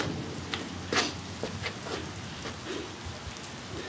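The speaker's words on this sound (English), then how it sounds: "I think it's raining. I think it might be raining." Steady rain falls in the cold, a continuous hiss of patter with scattered sharper drops striking a surface, with no voices.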